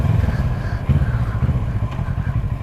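A Kawasaki Versys motorcycle cruising along a residential road, its engine a steady low drone with slight pulsing, heard close and continuous.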